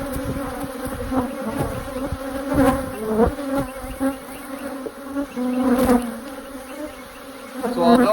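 Bees buzz loudly around an open hive during an inspection, a dense, close, continuous drone with individual insects swelling louder as they fly near.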